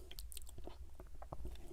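Soft, close crunching bites and chewing of a Subway sandwich stuffed with chips, a series of irregular crisp crunches at low volume with a sharp click at the end.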